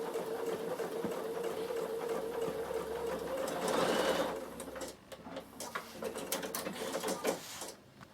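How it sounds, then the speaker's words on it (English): A Bernina sewing machine top stitching a cap peak at slow speed, a steady close mechanical whir with a rhythmic needle hum, easing off and turning uneven toward the end. "So top stitching it nice and slowly, and you can do as many rows as you like"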